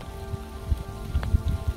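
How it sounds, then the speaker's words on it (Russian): Rain falls outdoors among rocks on a rainy autumn day, making a steady, dense patter with scattered louder drops hitting close by, and no voices. "Дождик очень сильно мешает."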